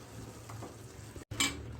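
Spices, salt and potatoes hit a hot pan with a sizzle, followed by a brief stirring scrape and metal clink.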